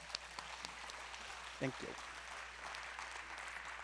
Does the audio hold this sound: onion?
no